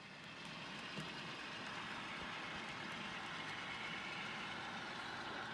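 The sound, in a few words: model train crossing layout bridge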